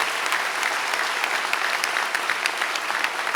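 Applause fills the hall at a medal of valor ceremony for state corrections employees, a continuous, moderately loud wash of many hands clapping with scattered sharper claps.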